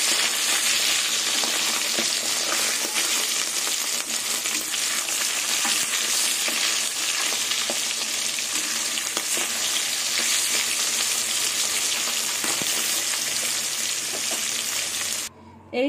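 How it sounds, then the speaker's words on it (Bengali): Dhela fish sizzling and crackling steadily in hot oil in a pan, a loud, dense frying hiss that runs nearly unbroken before cutting off abruptly at the end. "এইভাবে সব মাছগুলো ভেজে নিলাম"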